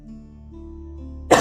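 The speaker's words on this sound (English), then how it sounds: "I'm still recovering a bit of a cough" A single sharp cough bursts out at the very end, loud and close, after a quiet stretch of low steady background tone.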